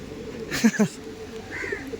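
A low, throaty pigeon coo rolls out twice in quick succession, close and soft, with faint chirpy bird sounds and background murmur around it.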